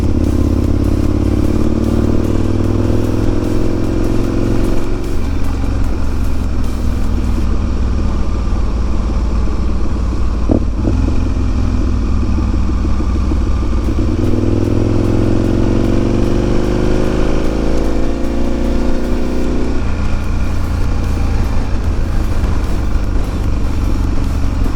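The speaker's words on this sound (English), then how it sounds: "I'm riding a really cool bike that I enjoy very much. It's an Aprilia Caponord, it's an ETV1000," An Aprilia Caponord ETV1000 motorcycle engine drones loudly and continuously while riding, rising and falling in pitch through several gear changes, with constant wind rush over it.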